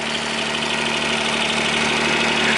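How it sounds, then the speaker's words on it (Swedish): A John Deere 332 tractor engine idles smoothly, a steady close mechanical hum with a low, even throb and light vibration, unchanging and with no voices. "Han går väldigt fint i motorn."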